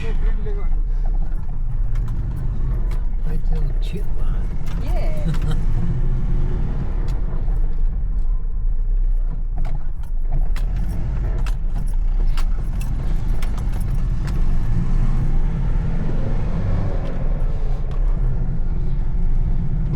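A jeep loaded with rations and luggage drives along the rough road to Manang: a continuous low engine and road rumble with rattling bits and jangling, heard from inside the vehicle, with voices faintly under it.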